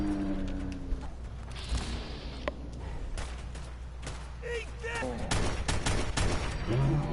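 Rapid bursts of gunfire from the Fallout 4 video game, shots and a fusillade rattling over game ambience and brief whistling effects, fairly loud and up close, with some voice mixed in.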